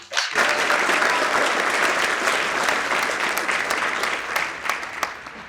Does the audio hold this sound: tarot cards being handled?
no